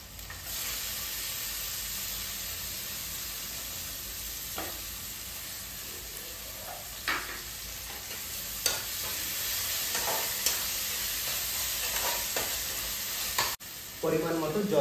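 Food frying in a pan with coriander leaves added, a steady close sizzle with occasional stirring scrapes and clinks, no talk.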